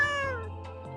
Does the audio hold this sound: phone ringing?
no